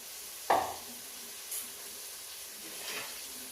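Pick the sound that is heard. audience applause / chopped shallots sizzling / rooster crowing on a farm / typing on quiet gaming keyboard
chopped shallots sizzling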